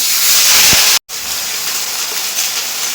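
Onion paste hits hot mustard oil in a kadai with a whole cumin tempering, setting off a loud, steady hiss of sizzling that carries on after a brief break, close up with no talk.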